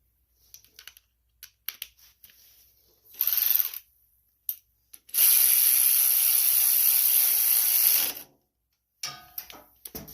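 Ratchet wrench tightening the valve cover bolts on a Toro Z Master riding lawn mower engine, with short clicking bursts followed by a long steady run of ratcheting, close and fairly loud.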